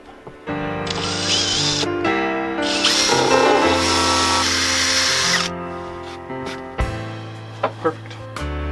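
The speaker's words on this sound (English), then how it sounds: "Start with drilling a really little hole." A power drill bores a small hole during transmission removal work, its steady whining motor running for several seconds with shifting pitch as it bites, then stopping, followed by a few light clicks and taps.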